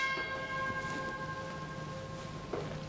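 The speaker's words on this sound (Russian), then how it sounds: "Вот я вот сейчас возьму струну" A single plucked instrument string rings out clearly and decays slowly over a few seconds in a quiet room, with faint room noise and a light knock near the end.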